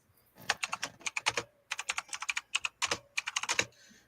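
Rapid bursts of typing on a computer keyboard, close and clear, in irregular clusters of keystrokes with short pauses between runs, no voices.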